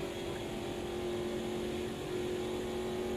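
A NASCAR race car engine at Daytona in a racing game drones at high revs, holding a steady tone that wavers slightly as it nears the limiter.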